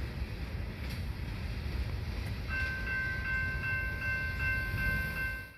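Wheeling & Lake Erie locomotive #7007 leads an eastbound stone freight train out of Medina yard, a steady low rumble of wheels and engine passing nearby with a sustained horn-like tone joining midway.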